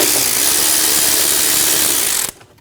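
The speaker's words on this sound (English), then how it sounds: "Using a T15 bit, we're going to remove the 2 screws for the intake." A T15 bit spins out intake screws on a 2012-2022 Volkswagen Passat, giving a loud, steady, dense ratcheting whir that runs unbroken for about two seconds and then cuts off abruptly into near silence.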